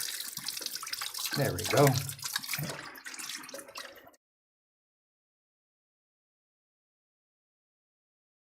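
Water runs from a small sink tap as fresh water is drawn for a painting session, a close splashing stream lasting a few seconds under brief talk, then cut off into silence.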